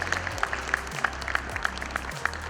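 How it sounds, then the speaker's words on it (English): An audience at a Lahore conference talk claps in a round of applause, a soft, hissy wash of many hands with a few sharper claps standing out in a fairly even patter. "Big round of applause for all of you"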